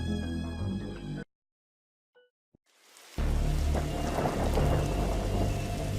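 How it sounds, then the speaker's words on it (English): A strange purple storm in The Darkside Detective 2 video game: a short musical passage cuts to silence, then heavy rain and rumbling thunder swell in and hold at a loud, steady, enveloping level. "He must have seen the strange storm gathering over it."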